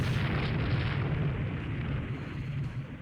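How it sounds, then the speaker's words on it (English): Broadside salvos from three Imperial Chinese battleships in the naval game Rule the Waves 3, a dense, continuous rumbling roar of heavy gunfire and explosions, loud and unbroken. "that's the entire broadsides of... basically 3 Imperial Chinese battleships"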